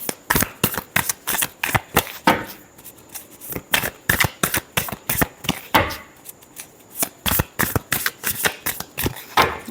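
A deck of tarot cards is shuffled briskly and close up, with rapid riffling bursts and soft flaps repeating in an uneven rhythm, with no talking over it.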